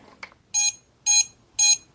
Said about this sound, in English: Buzzer works.